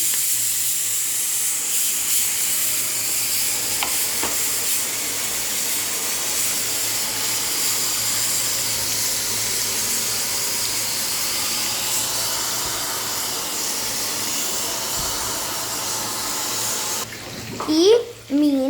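Two fish fry in boiling oil in a frying pan, giving a steady, loud, close sizzling hiss that runs unbroken until a brief clatter at the end.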